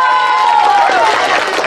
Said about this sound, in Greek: Και παρακαλώ όλοι μαζί ένα μεγάλο χειροκρότημα στο Γιωργάκη.